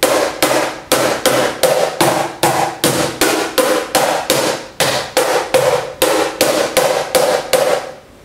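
Sharp, slapping strikes on a cajon hit for its high tone, about twenty crisp hits in a steady, slightly uneven rhythm, loud and close with no speech.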